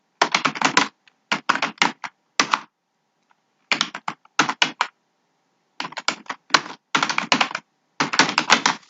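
Someone types on a computer keyboard while entering data in Tally Prime accounting software, with crisp clusters of rapid keystrokes separated by short silent pauses.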